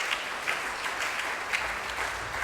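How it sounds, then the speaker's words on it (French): A congregation at a church gathering claps in steady, moderately loud applause, with a continuous wash of hands and a few sharper claps standing out. "Est-ce qu'on peut applaudir pour ça?"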